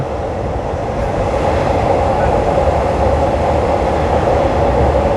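Steady interior rumble of a passenger train riding from Don Mueang toward Krung Thep Aphiwat Central station in Bangkok, a loud continuous rolling drone with faint wheel clatter throughout.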